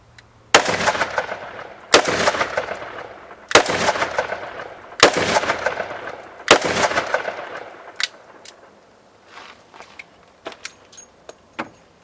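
A small revolver fires 125 grain hollow point rounds double action, five loud, sharp gunshots spaced about one to two seconds apart with ringing decay, followed by a few lighter metallic clicks and handling sounds.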